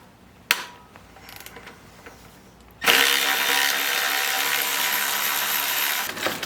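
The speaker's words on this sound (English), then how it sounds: "before you try to take this off, we're gonna undo these bolts over here" Bolts on a car intake manifold, both T30s, are undone with a ratchet: a sharp clack and a few quiet clicks, then a loud, steady, close whir of a power ratchet spinning for several seconds, ending in a couple of clicks.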